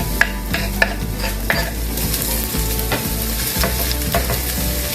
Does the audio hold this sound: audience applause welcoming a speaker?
no